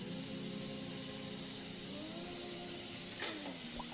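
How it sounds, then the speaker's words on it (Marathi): Butter and a half spoon of oil heating in a pan for sabudana khichdi give off a steady, soft sizzling hiss, with a faint clink near the end. "त्यामध्ये थोडंसं बटर टाकूया आणि अर्धा चमचा तेल।"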